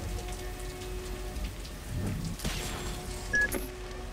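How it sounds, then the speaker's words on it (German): Steady rain pours over Neo Paris in the video game Remember Me, a dense, continuous hiss of drops on hard surfaces with a faint low rumble beneath and a soft electronic tone near the end. "Es regnet gerade über Paris."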